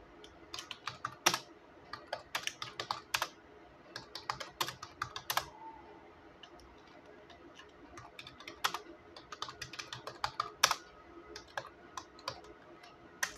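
Steady clatter of keys on a computer keyboard while typing text in the vi editor on Linux, close and fairly quiet, with irregular bursts of keystrokes and short pauses, nobody speaking.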